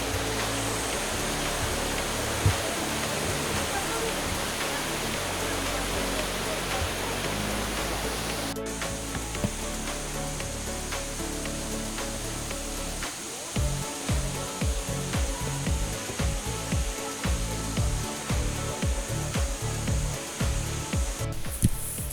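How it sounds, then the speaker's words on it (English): Yeddi Gozel waterfall flowing from a hill in Gabala, Azerbaijan, a steady broadband rush of falling water, loud and constant, broken later by thumping handling noises close to the microphone. "So these are the waterfalls that we have been looking for."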